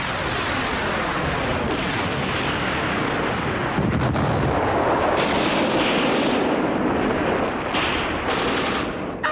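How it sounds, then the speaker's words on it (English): Artillery salvos roar in a wartime film scene, a dense continuous barrage of booming blasts and rumbling fire that surges louder partway through, with no voices. "Artillery salvos pulverised my naked comrades in the sands of Brandenburg."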